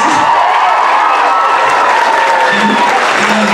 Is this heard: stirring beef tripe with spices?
no